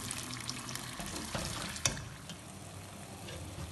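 Saag stirred in a pan with a spoon, giving soft scraping and bubbling close by, faint overall, with one sharper clink partway through.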